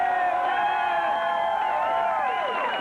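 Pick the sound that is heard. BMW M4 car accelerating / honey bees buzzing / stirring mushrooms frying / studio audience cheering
studio audience cheering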